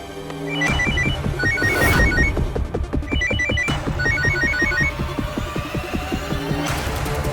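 A telephone rings with repeated electronic trilling bursts over a low throbbing hum and music in a Hindi TV drama scene, loud and continuous.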